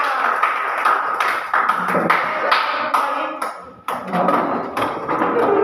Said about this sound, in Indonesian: Oke, beri aplaus untuk semuanya.